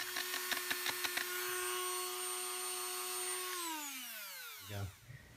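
A rotary tool bit roughens a filed cast metal surface from a lost foam casting. A few quick chattering ticks give way to a steady, high, buzzing whine, which then slides down in pitch as the tool spins down and stops.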